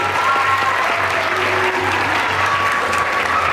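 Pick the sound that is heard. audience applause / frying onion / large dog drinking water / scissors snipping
audience applause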